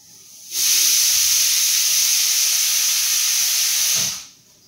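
A pressure cooker lets off steam in a loud, steady hiss that starts abruptly, holds for about three and a half seconds, then cuts off.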